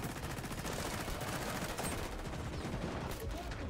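Rapid gunfire from XDefiant on the Rockefeller map, a dense stream of overlapping shots and automatic bursts that stays loud and steady throughout without any voice over it.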